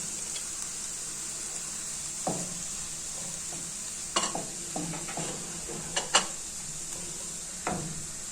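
Onion and garlic sizzle in a frying pan, a steady soft hiss broken by occasional stirring knocks and scrapes of a utensil against the pan.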